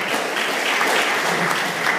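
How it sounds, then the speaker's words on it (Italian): Audience applause at a charity gala in Italy, a steady dense round of clapping from a seated crowd that holds at an even loudness for the full two seconds with no voices over it. "Darei la parola adesso a Giordana Gomoni, compendiandola anche di un vostro applauso"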